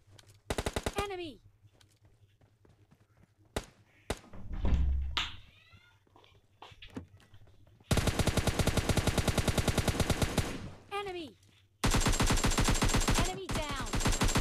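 Bursts of rapid automatic gunfire in PUBG Lite ring out in long sustained volleys, with scattered single shots and thuds between them, loud and close.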